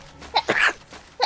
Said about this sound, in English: that means you sneeze.